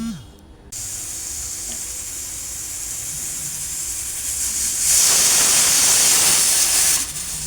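A pressure cooker releases a steady, loud hiss of escaping steam throughout, swelling into a stronger, brighter rush near the end before easing slightly.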